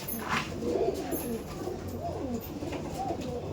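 Kaldom pigeons in a loft giving repeated low throaty coos up close, overlapping calls rolling on steadily with faint chirps and light background rustle.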